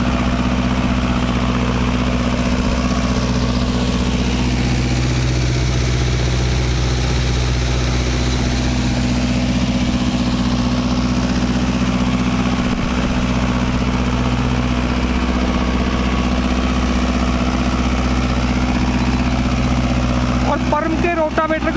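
A Mahindra Novo 655 tractor engine runs steadily under load while driving a 9-foot Param rotavator through hard black soil, a loud continuous low drone with a slight clatter near the end.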